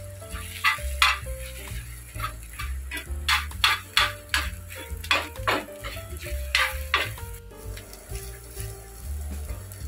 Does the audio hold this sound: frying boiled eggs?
yes